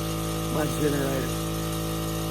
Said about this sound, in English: Not a generator, air compressor.